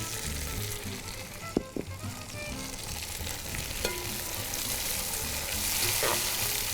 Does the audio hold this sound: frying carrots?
yes